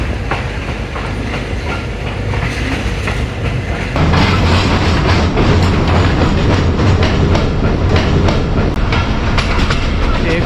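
The Mianwali Express rolls along the track through hilly country, a loud, continuous rumble with rhythmic clickety-clack of wheels that grows heavier midway, heard from on board.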